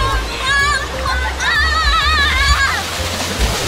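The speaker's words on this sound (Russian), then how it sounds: "в последний день идем купаться в море" Sea water splashes and sloshes close by as people swim, with children's voices calling out over the watery churn.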